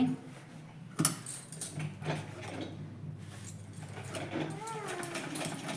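A sewing machine stitches an old shawl into a multi-use organizer, its close mechanical whir running steadily with a sharp clack early on, while a voice murmurs in the background.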